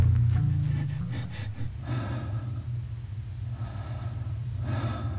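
A soldier character from the war game Socom Confrontation breathes heavily, with sharp gasping inhales and low grunting exhales recurring close up and fairly loud, with no other talk.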